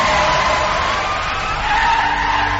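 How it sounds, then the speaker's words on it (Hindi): A car skids hard to a halt on a highway, a loud continuous tire screech with engine roar that holds steady for under three seconds, used as a tense horror-story effect. "दलबीर ने गाड़ी रोकी"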